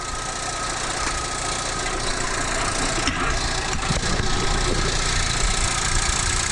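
Fiat Panda 100hp engine spinning over steadily under its own power during a garage revival, a continuous close mechanical whir and rattle with a slightly jumpy pulley, loud and unbroken.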